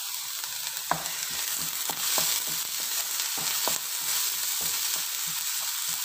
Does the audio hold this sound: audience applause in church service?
no